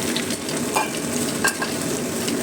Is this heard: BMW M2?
no